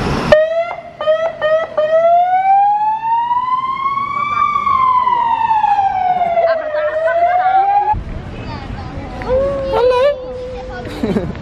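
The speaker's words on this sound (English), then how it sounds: "Here's a fire engine coming." A fire engine siren on an Istanbul street, a loud rising and falling wail sweeping slowly up and down, with short yelps before it and street noise and talk after it fades.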